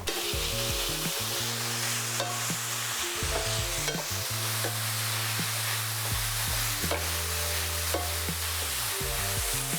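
Chopped vegetables fry in a pan over medium heat, giving a steady, even sizzle with occasional stirring scrapes, mostly under loud background music.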